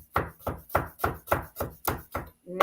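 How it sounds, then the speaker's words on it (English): A knife minces about six garlic cloves on a cutting board in a steady series of eight crisp, evenly spaced chops, close and clear, with no talk over them. "I'm going to chop them up. I'm going to mince them like so."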